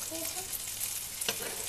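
Butter sizzling in a hot frying pan while pancakes are made, a steady, fairly quiet crackling hiss throughout with a brief scrape near the end and no talking.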